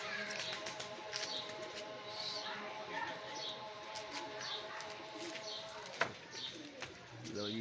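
Pigeons coo softly and repeatedly as they settle and land, the low rolling calls overlapping in a steady outdoor murmur, with a brief sharp knock near the end.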